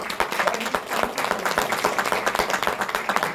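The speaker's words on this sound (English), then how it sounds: "He deserves a huge round of applause." Audience clapping at a BNI business networking meeting, a dense, steady patter of many hands that runs the whole time at moderate level with no voices on top.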